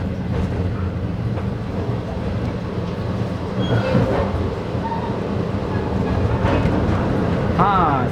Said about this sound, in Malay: Jadi inilah dia penghujung kereta api, gerabak yang paling belakang sekali